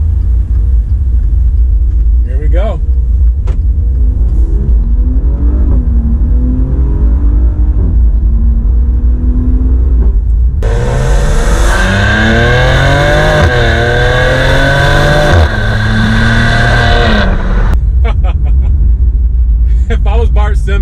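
A 2021 Maserati Levante in sport manual mode revs hard through its exhaust, climbing through rising surges and a loud burst of high revs before settling back, heard from inside the cabin with a voice talking over it.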